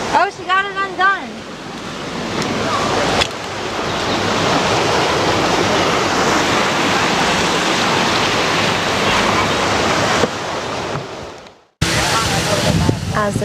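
Surf rolls onto a beach at Puerto Vallarta, Mexico as a steady, fairly loud wash of noise with wind buffeting the microphone, while people talk briefly at the start and the end.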